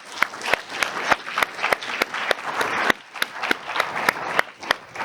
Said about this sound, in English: let's just give a round of applause to Aaron Wright, who's joining us.